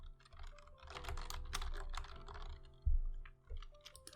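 Quick, irregular keystrokes on a computer keyboard as motor names are typed while programming a V5 tank drive in C++, close and clear with a faint steady hum behind, and a heavier key thump near the end.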